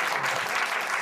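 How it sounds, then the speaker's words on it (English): A room full of flight attendant trainees applauds in a short, dense burst of clapping, steady and fairly loud throughout. "Let's give a round of applause."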